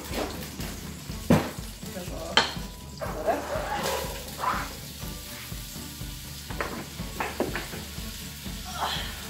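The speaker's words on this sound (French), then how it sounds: "Mes oignons sont en train de cuire" Chopped onions frying in a pot for bolognese sauce, a continuous low sizzle with irregular clacks and scrapes of stirring, near and moderate in level.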